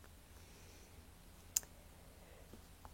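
A single computer mouse click, close and crisp, standing alone over faint room hiss while an order is saved on screen.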